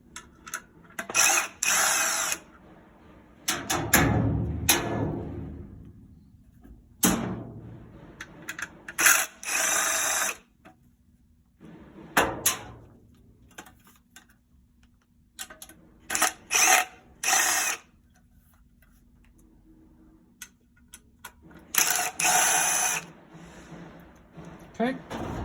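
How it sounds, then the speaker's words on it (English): Power drill backing out the four outer cover screws on a 2021 Bookworm during a motherboard replacement, heard as repeated short whirring bursts with ratchet-like clicks, separated by pauses and brief handling noise. "Now we just got to undo the 4 screws on the outside of this so we can get"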